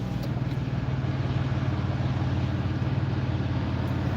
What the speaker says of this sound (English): There are a lot of cars here. You can hear them.